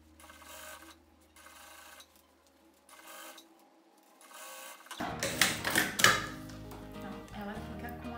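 A domestic sewing machine stitching a bag handle runs in short bursts separated by quiet pauses, then rattles louder with clattering and handling noises toward the end; someone talks quietly at points.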